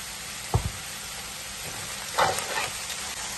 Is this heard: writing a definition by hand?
no